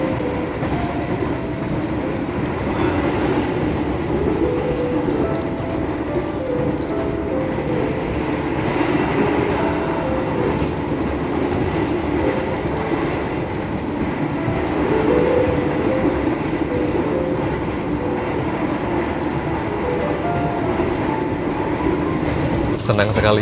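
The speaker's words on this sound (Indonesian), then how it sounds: "Senang sekali ya bisa naik kereta Manahan Tambahan yang kedua kalinya" Manahan Tambahan passenger train rolling steadily along the rails, with a continuous loud rumble and wheel clatter throughout, faint voices mixed in beneath the noise.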